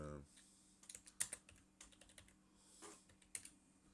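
Quiet computer keyboard typing in irregular bursts of scattered key clicks with pauses between, close and soft.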